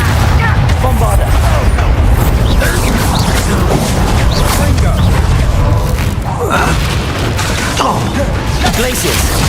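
A Bombarda spell explosion in the Hogwarts Legacy video game, a loud continuous roar of booming blasts and crashing debris, dense and close.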